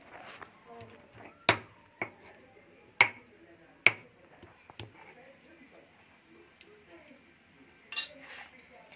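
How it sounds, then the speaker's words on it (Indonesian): Potatoes, boiled and then fried, are mashed until smooth for perkedel, giving sharp clinks and taps of utensil on bowl at irregular intervals over quiet background, with talk alongside. "Setelah direbus dan digoreng, kita hancurkan sampai halus seperti ini."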